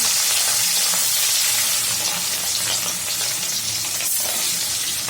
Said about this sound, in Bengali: তো দেখেন তেলটা গরম হয়ে গেছে, মাছ দিয়ে দিব